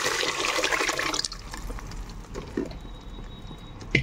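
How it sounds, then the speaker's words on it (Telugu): Cooked mung dal is poured into a pot for raw mango dal, a wet splashing pour for about a second, then softer sloshing and faint kitchen noise with no talking. "ఇప్పుడు మనం ఈ పప్పుని ఇందులో వేసేసుకుందాం."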